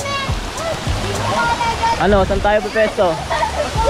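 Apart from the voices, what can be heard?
Tagandaw waterfall, third layer of Binayoyo Falls, Antipolo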